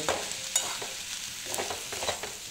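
New home-grown potatoes and onion greens fry in a pan, with a constant close sizzle under repeated scraping strokes of a spatula.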